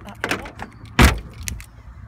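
A used Mini's car door slams shut once with a solid thud, close by, briefly preceded and followed by faint clicks and light handling sounds.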